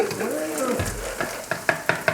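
Eggs fry in bacon grease in a pan, a close, loud steady sizzle with a few sharp utensil scrapes and taps toward the end.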